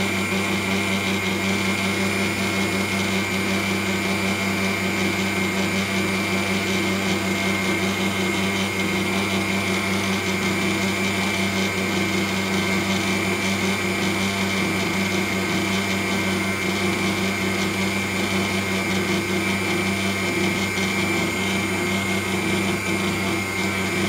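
A stand mixer at speed 2 kneads fresh pasta dough with a steady, loud motor whine and hum. It runs without a break and no one speaks over it.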